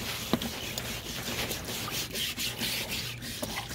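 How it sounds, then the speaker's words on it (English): A stiff scrub brush works back and forth over a rusty chainsaw bar, making a steady, close scratchy rasp that runs the whole time with no pauses. "I'm going to take the scrub brush, kind of just go over it, and you can see where it's just coming off"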